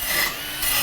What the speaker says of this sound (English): I use the same drill with the same wire wheel